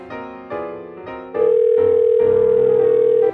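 Phone call tone while dialing: a few short keypad-like beeps, then one long steady ringback tone lasting about two seconds, clear and alone with no talk.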